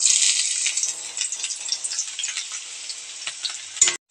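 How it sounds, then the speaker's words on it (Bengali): Vegetables fry in hot oil in a pan, a bright close sizzle with occasional stirring scrapes running steadily, then cutting off abruptly near the end. "আমার গরম হয়ে গেছে আমি সবজিগুলো ভেজে নেবো"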